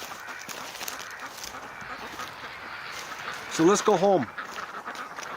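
A few ducks give a short burst of loud quacks near the microphone, standing out briefly in an outdoor setting while someone talks.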